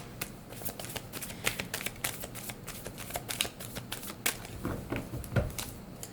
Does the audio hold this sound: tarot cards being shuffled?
yes